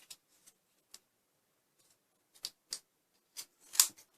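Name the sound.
scissors cutting paper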